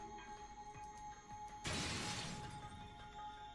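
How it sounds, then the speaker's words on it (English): Glass shattering from a gunshot in the video game Zero Time Dilemma: one sudden loud crash of breaking glass, its bright debris scattering and fading over a couple of seconds after a quiet lead-in. "we shoot the glass"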